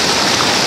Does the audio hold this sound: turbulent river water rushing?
yes